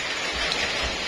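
Steady rain falls in a continuous, even hiss as a storm arrives, with no voices over it during this brief stretch.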